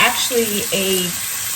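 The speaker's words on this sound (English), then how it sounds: "And let the onions cook a bit." Onions cooking in a frying pan over medium-high heat give off a steady, close hiss of sizzling. Brief vocal-like tones sit over the frying, and there is no clear speech.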